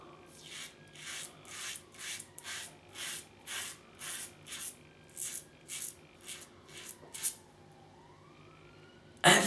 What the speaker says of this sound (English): there's a siren goes past